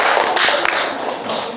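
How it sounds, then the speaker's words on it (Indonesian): A classroom of students claps together, a short burst of loud, close clapping with individual hand claps audible, fading slightly toward the end. "Tepuk tangan semuanya."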